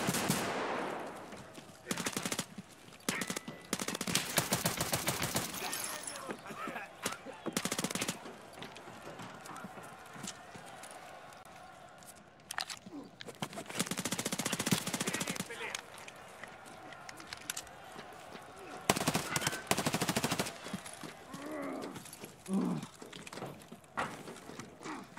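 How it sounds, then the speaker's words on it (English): Machine gun fire in an Escape from Tarkov Arena match, repeated rapid bursts of automatic shots with short pauses between them, loud and dense at times, with voices talking over parts of the shooting. "All this shooting."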